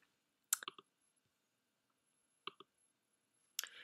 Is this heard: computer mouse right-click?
yes